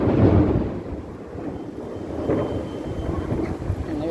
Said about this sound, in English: And there's a lot of thunder.